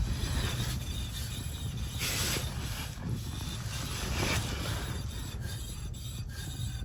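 Steady rasping, grinding rub from worn brake rotors on the driver's side rear wheel of a high-mileage Toyota Camry as the wheel turns, continuous and fairly close with a broad noisy texture throughout.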